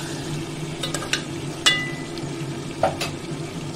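Bottle gourd curry fries in oil in a pan with a soft, steady sizzle, broken by a few sharp scrapes and taps as a spoon stirs it.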